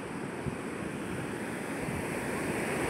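Water rushing over a full dam, a steady roar of broadband noise that stays loud and even throughout, with no voices.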